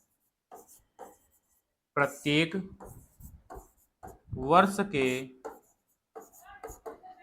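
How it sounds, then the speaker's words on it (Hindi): Handwriting on a board during a Hindi-language history lesson on the Indian national movement: short scratchy strokes in scattered bursts, mixed in with a teacher speaking. "अगर आप इसको थोड़ा सा और शुद्ध कर पाए तो मैं यहां पर लिख दूं"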